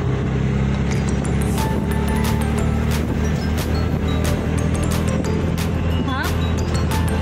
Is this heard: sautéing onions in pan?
no